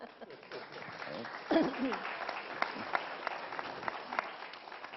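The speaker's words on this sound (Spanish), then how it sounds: "Podéis aplaudir." Steady applause from the audience at a Spanish mentoring association congress. Many hands clap at once, and the sound swells slightly in the middle and carries on for several seconds, with faint voices under it.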